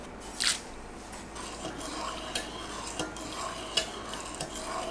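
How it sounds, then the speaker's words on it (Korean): Pickle brine of water, vinegar, sugar and sea salt being stirred in a pot, a soft continuous swishing with a few sharp clinks of a utensil against the pot, close and without talk. "물 1리터, 식초 500ml, 설탕 500g, 천일염 2스푼 넣고 섞어주세요"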